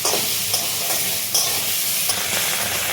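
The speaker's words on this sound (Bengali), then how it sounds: "আদা জিরে লঙ্কা ভালো করে বেটে মায়ের মধ্যে দিল" A paste of ground ginger, cumin and chili fries in a pan, giving a loud, continuous hissing sizzle with a few soft stirring scrapes.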